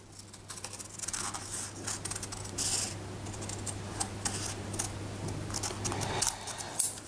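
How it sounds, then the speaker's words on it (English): Scissors cut paper along a crease for a tangram puzzle, a close run of small crisp snips and rustles over a low steady hum. "Then cut along the crease."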